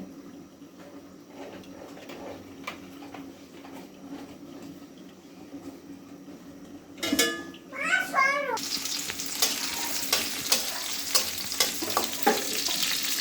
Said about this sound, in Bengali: শুটকির তরকারিটা রান্না করার জন্য চুলায় একটি কড়াই বসিয়ে তেল ঢেলে দিচ্ছি।